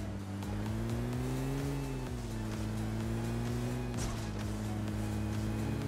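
A vehicle drives steadily in a Fortnite Chapter 1 Season 1 solo-versus-squad match, its engine a low, continuous droning hum with a slight rise and fall in pitch, quiet and unbroken throughout.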